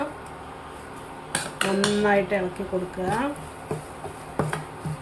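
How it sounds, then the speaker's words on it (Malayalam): A utensil stirs Kerala-style lemon pickle masala in a metal pan, giving close scraping and clinking scrapes in short strokes, while a person speaks over part of it. "നന്നായിട്ട് ഇളക്കി കൊടുക്കുക."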